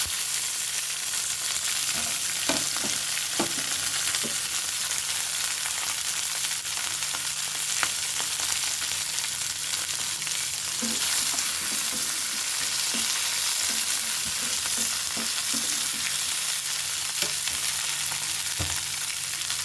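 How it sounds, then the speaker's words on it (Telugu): Green chillies sizzle in hot oil in a pan, a steady loud frying hiss with occasional small pops and stirring clicks, no voices. "అదే నూనెలో మిర్చి వేసుకుందామండి."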